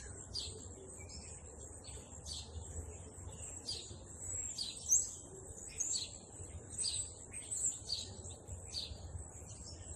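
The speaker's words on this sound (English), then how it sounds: "Got some birds on the power lines." Birds perched on power lines at sunrise in Indiana chirp steadily in a quiet, distant chorus. Repeated high tweets recur over a soft background hiss throughout.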